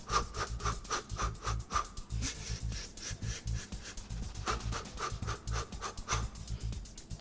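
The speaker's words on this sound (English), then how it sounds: "Don't forget to breathe." Rhythmic, panting breaths during a boxing training workout, repeated in quick in-out cycles with faint scuffing and rubbing underneath, close and steady throughout.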